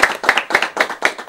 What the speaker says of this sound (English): I just want to clap it up for that.